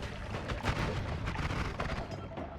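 In the game Noita, a propane tank explodes with a dense, sustained rumbling roar and crackle that rolls on for a few seconds without a break, loud and boomy with no talk over it.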